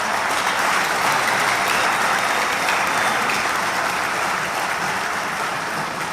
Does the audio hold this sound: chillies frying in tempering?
no